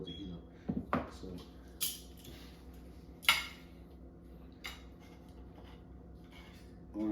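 Utensils clink and scrape against a dinner plate in a kitchen where chicken marsala is being cooked, giving a few sharp isolated knocks and scrapes separated by quiet gaps.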